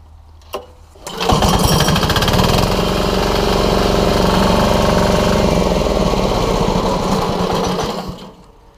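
A log splitter's small engine pops once, then fires up and runs loud and close with a rapid, rattling throb for several seconds before dropping away at the end.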